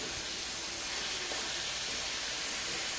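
Tomatoes frying in a pan for chicken aloo give a steady, close, even sizzle and hiss that runs throughout with no speech over it.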